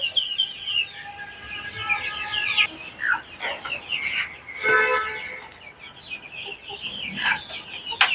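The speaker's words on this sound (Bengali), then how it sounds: "আমার এই ছোট ছোট মুরগিগুলা আমার কাছে অনেক আশার, অনেক স্বপ্নের" Young chicks on a small poultry farm cheep and cluck in scattered bursts, moderately close against quiet background noise.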